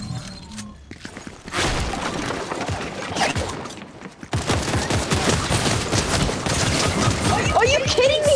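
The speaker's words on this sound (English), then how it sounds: "I'm being shot at already." Gunfire in the video game Fortnite crackles in rapid bursts and dense volleys, loud and continuous through most of the stretch, with a voice talking over it.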